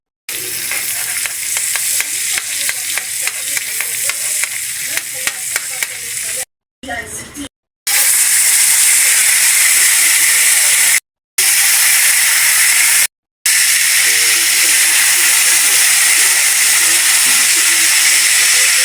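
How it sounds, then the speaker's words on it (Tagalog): Steady, loud sizzling of marinated milkfish frying in hot oil with margarine, with a few brief scraping stirs early on and short gaps in the crackling hiss. "Lutuin na natin yung minarinate natin kanina na bangus. Prituin natin."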